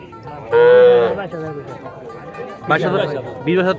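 Cattle at a village livestock market in Bangladesh, a cow with her young calf, giving two loud nearby moos a couple of seconds apart, with people chattering and talking throughout.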